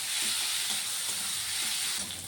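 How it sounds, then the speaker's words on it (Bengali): Finely chopped onion frying in oil in a pan for a rohu fish curry, a dense, even hiss and crackle heard up close and fairly loud, with faint stirring underneath and no talking. "পেঁয়াজটিকে একটু ভেজে নেব আমি।"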